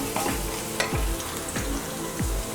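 Capsicum, beans and chillies fry lightly in a pan for vegetable fried rice, a steady close sizzle broken by regular scraping stirs of a spatula, with no voices.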